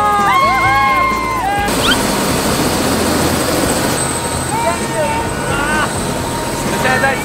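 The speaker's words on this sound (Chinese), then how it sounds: "第一次坐直升机那种感觉" Helicopter sightseeing flight over New York, heard from inside the cabin as a loud, steady engine and rotor drone, with excited passengers whooping and talking over it.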